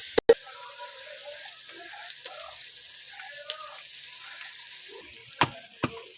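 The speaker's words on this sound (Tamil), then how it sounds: "தக்காளியை சேர்த்துட்டு நல்லா தக்காளி நல்லா வதங்கணும்" Tomatoes are being sautéed in a pan with crushed spices for a large batch of meat curry, giving a faint, soft sizzle with occasional clinks and stirring knocks close by.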